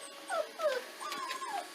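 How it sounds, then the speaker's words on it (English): Newborn puppies from a litter of seven whimper and yip in short, rising and falling high cries, several overlapping whines close by with no talking. "she gave birth to 7 healthy little puppies, and they are in today for their vaccinations"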